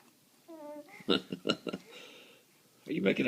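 A baby blows wet, sputtering raspberry noises up close, then babbles, with short bursts of voiced sounds in between.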